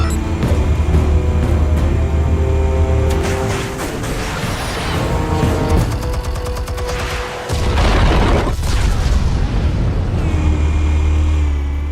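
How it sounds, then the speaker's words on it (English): A loud, sustained explosion and rumbling blast in the Batman Telltale game, dense roaring noise with crackling debris and a deep low boom that dips briefly and then surges again. "Explosives armed. Fire when ready."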